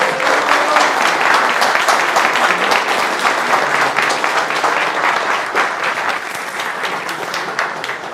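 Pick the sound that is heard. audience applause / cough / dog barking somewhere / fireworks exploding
audience applause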